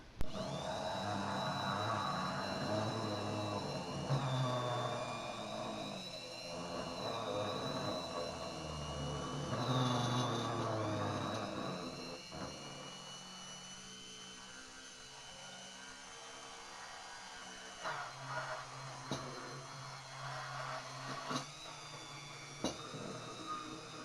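A blender whirls mayonnaise ingredients with a loud, steady motorized whir for roughly half the time, then stops, leaving quieter clatter and faint background sound.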